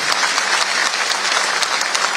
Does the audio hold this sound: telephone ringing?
no